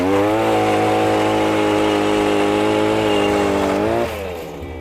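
A gas-powered ice auger drills fishing holes through the ice, its small engine droning loud and steady before the pitch drops as it eases off near the end.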